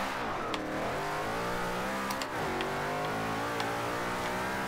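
A 2005 Ford GT's turbocharged engine in Forza Horizon 2 revs hard and steadily, its rising and falling pitch sweeping up and down over nearly five seconds of continuous loud, close engine roar with no talking.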